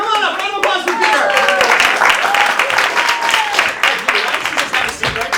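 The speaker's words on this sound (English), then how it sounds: "Round of applause for Peter." An improv comedy audience claps and applauds loudly and steadily as a volunteer is called up on stage, with the host's voice cutting in over the clapping.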